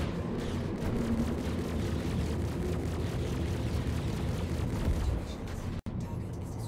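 A ship explodes in the space game Star Citizen, giving a long, loud, roaring rumble that holds steady for several seconds, then cuts off abruptly near the end.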